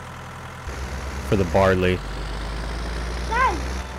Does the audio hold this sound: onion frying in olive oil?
no